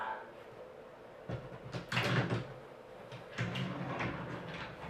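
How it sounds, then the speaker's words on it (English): An IKEA MALM dresser drawer being slid into its slot, a few scraping, sliding bumps of wood on runners, close and moderately loud, ending with a soft knock as it seats. "from here, you simply place the drawer into its home."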